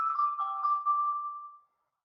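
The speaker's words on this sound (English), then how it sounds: "Let me just turn off my phone." A mobile phone ringtone goes off during a lecture on infant and child imaging, a single clear electronic melody of a few tones that fades out after about a second and a half, followed by silence.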